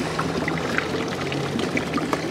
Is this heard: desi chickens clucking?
no